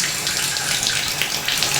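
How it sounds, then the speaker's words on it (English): Water pours steadily from a Pfister shower tap with a constant hissing rush, close by and uninterrupted. "Alright, so the water's still coming on,"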